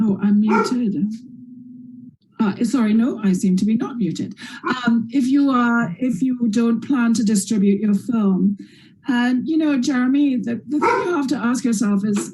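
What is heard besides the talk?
dog barking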